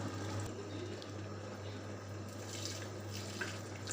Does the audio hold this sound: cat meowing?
no